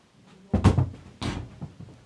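A kicked football strikes a table indoors, producing two hard, hollow thuds about half a second apart, loud and close, with a short rattling decay after each impact and no talking.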